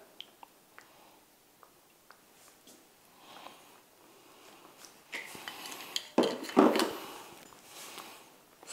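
Algae noodles tossed with olive oil: sparse light clicks at first, then wet squishing and utensil scrapes that grow louder and busier toward the end, close by without talk.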